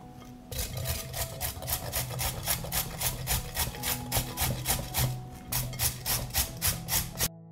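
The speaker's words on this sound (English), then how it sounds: "I will grate 1 carrot." A carrot is rasped against a grater in quick, rhythmic strokes, close and clear, making about two dozen scratchy swipes in a steady back-and-forth pattern with no talking.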